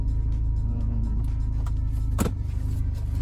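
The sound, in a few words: tuned Audi A4 B7 car driving on snowy road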